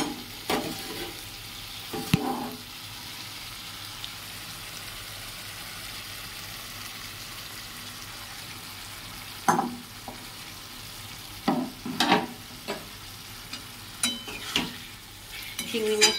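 Prawns fry and are stirred in a pan, a soft steady sizzle under a series of sharp scraping stirs, clustered in short bursts near the end.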